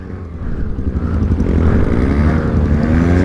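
A motorcycle straining up a slippery hill after rain, its engine revving hard in a loud, rising drone with pulsing throb, close to the microphone.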